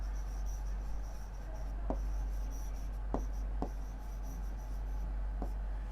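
Pen or pencil writing steadily on paper, a continuous close scratching rub punctuated by a few sharper taps, with no voices and a low steady hum underneath.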